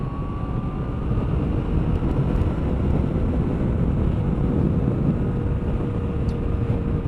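Yamaha MT-09 Tracer motorcycle accelerating to overtake, a steady loud engine drone under heavy wind rush, with a faint rising engine tone running through the whole stretch.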